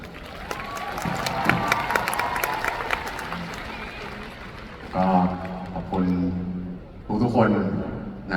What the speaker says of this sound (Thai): อยากจะให้ทุกคนตบมือให้ตัวเองนะครับ